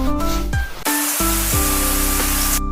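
Shower water sprays steadily during a final rinse after body wash, a loud continuous hiss with a tonal hum running underneath.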